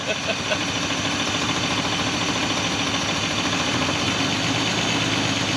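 A revived 1970s Volvo 164E engine idling after sitting for twenty years, a steady, even rumble that holds close and constant throughout, with someone talking over it.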